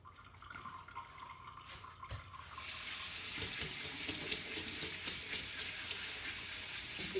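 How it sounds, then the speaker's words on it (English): A kitchen sink tap turns on partway through to wash a 5 to 7 pound watermelon with soap and warm water. Water streams steadily and close, after a quieter opening with a few small knocks. "But I wash it really good with"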